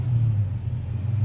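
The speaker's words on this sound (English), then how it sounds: "So you rev it just like that." The engine of a 1936 Plymouth Coupe hot rod fitted with hand controls rumbles low and steady nearby, with a deep idling throb and no speech.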